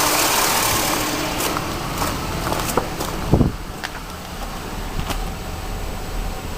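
A car engine idles roughly while the tensioner belt rocks, a loud, close, continuous engine rumble with a slightly uneven pulse and a few faint knocks and clicks under the drone.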